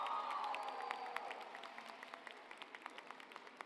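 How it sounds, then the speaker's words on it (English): Audience applause for teachers and staff at a 2025 high school graduation ceremony: a broad, fairly distant crowd clapping that starts as a swell and thins into scattered individual claps toward the end. "join me in giving a round of applause for our amazing teachers and staff"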